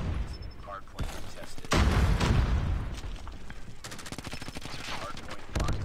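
Gunfire in a first-person shooter video game, with loud bursts and rapid automatic fire cutting in and out over a busy battle background, and faint voices mixed in.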